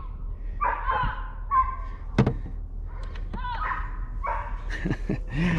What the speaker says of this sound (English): Sorry about the dogs, guys. These guys are just going off.